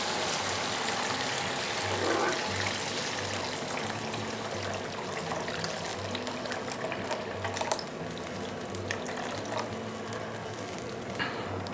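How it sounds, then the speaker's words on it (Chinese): Water poured into a hot wok over sautéed ginger, scallion and chili aromatics for a spicy Sichuan seafood dish, a steady close pouring and trickling rush with a low hum beneath and no talk. "加入清水"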